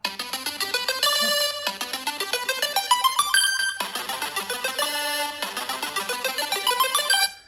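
A bright Google Pixel 9 Pro ringtone plays a bouncy, repeating melody of chiming notes, loud and clear with no talking.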